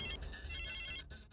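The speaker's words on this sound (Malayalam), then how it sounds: "റിംഗ് ആവുന്നുണ്ട്." A telephone rings in short electronic ringtone bursts, loud and close, with brief gaps between them.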